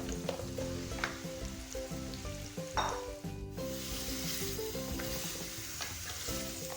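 Beef sizzles loudly and steadily in a hot karahi for Shinwari beef karahi, with a spoon stirring and scraping now and then.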